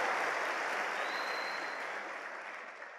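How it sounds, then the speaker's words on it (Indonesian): An audience at a business seminar in Indonesia applauds, with a soft, steady wash of clapping that gradually fades. "Tepuk tangan dong untuk Bandung."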